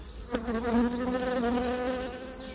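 Honey bees from a split swarm buzz steadily around the hive, a loud, sustained drone that stays close throughout, with a brief tap near the start and no talking.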